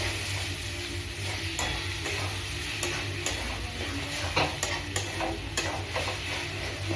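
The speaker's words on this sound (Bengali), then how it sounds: "ভালো করে ভেজে দিলাম।" Egg bhurji sizzles in a pan with a steady frying hiss, while a spoon scrapes and taps the pan in irregular clicks, close and clear.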